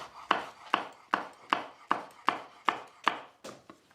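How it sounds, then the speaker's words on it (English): A knife chops a green chilli on a board with about nine quick, evenly spaced taps, close and crisp, with no speech. "a tiny bit of green chilli, which I'm just going to chop"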